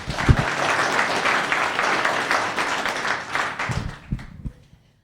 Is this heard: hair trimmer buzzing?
no